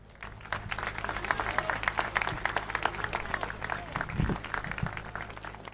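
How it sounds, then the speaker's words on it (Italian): An audience applauds the governor at the opening ceremony of the Antica Fiera di San Gregorio, a fairly even patter of many hands clapping at moderate distance, swelling slightly near the end. "Grazie per l'applauso"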